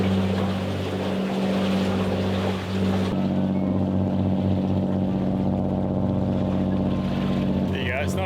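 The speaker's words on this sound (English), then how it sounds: "It's just a big, noisy, bloody fast ferry." A big, noisy fast ferry passing close to a sailboat's stern at sea, a loud steady engine drone with deep throbbing pulses and wind and water rush, fading partway as it passes.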